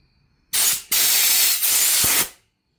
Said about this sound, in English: I just want to take this air compressor hose and you want to blow anything that could be inside the line out.